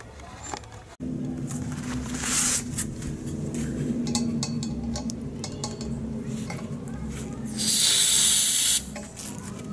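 Propane hisses from a canister valve during a refill, a steady low rush that swells near the end into a louder, sharper burst of venting spray, with scattered clicks and handling noises throughout.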